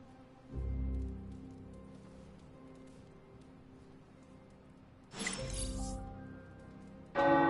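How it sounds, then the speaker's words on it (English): Church tower bells ring in the video game Marvel's Midnight Suns, with loud clanging strikes arriving in separate bursts over a faint steady background hum. "The tower bells are ringing"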